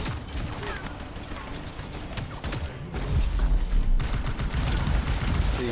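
Gunfire in the Anthem video game: dense bursts of shots and mechanical clatter that grow louder and heavier partway through, with a voice speaking in the mix.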